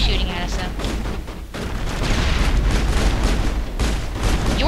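Enemy gunfire in the Mass Effect video game, a dense, sustained rattle of shots and booms that fills the whole stretch, loud and continuous with a brief dip partway through.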